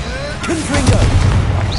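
Confringo fire spell blasts in the video game Hogwarts Legacy, a loud booming burst with a rumbling tail, heard up close amid game battle noise and a shouting voice.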